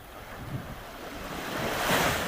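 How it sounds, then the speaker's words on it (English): Sea waves wash onto the coast at Side, Antalya, a steady broadband surf rolling under wind noise, swelling louder toward the end with no voices. "Wow, that's a beautiful sea, man."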